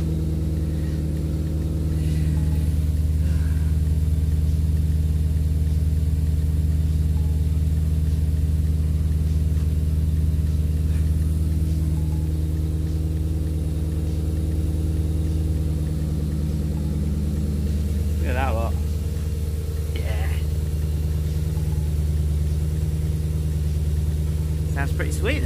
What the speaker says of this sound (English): I've got me loud exhaust sort of there for now